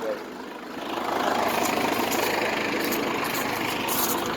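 A Cummins diesel engine fitted in a Ford F150 truck drones steadily while driving down a highway, a broad low rumble with road and wind noise that swells after the first second and holds.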